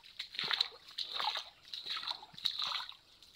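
Water splashes and trickles at a creek in hot weather, faint, close sloshing in uneven bursts with a steady high hiss underneath.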